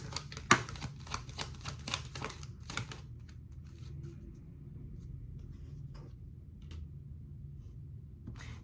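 Tarot cards are shuffled and drawn in a quick burst of soft, crisp riffling and flicking for about three seconds, then a few scattered light card taps and handling sounds against a quiet room background.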